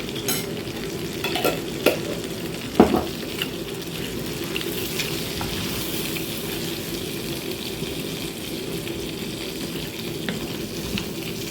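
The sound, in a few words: cooking flour stirred in a pan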